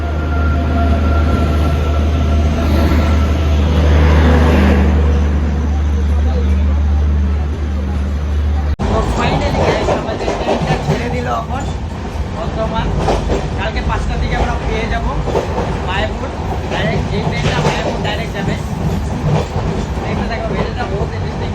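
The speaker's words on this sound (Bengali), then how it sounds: "ফাইনালি গাইস আমাদের ট্রেন ঢুকে গেল" A passenger train rolls into a station with a loud, steady rumble and rattle of wheels on rails, becoming a dense, close roar partway through, with no clear talk over it.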